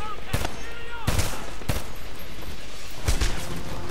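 Gunfire in the shooter video game Homefront: repeated loud bursts of automatic weapon shots, several short volleys in quick succession over a continuous noisy game background.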